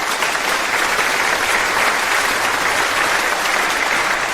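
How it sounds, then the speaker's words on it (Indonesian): An audience claps continuously and loudly as an elderly grandfather, Chen, is welcomed onto a stage, the dense applause holding steady without a break. "Sekarang mari kita sambut dengan tepuk tangan meriah kakek Chen naik ke panggung."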